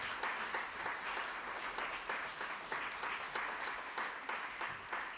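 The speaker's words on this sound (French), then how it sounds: "Je propose d'applaudir nos 4 intervenants." An audience at a history debate held at an embassy applauds the speakers with steady, moderately distant clapping that continues throughout.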